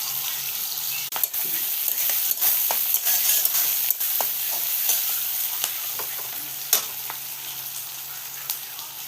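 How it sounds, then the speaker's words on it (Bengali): Onions frying in a pan crackle and sizzle under a steady hiss, punctuated by sharp scraping taps as they are stirred, fairly close and moderately loud. "পেঁয়াজ ভাজা হয়ে গেছে বন্ধুরা, এখন মশলা দিব।"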